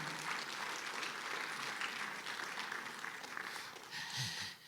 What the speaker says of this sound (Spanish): Dale un aplauso a la gloria del Señor.